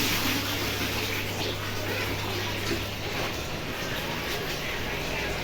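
Water runs steadily from a tap, a close, continuous broadband rush holding even in level throughout, with a low hum underneath.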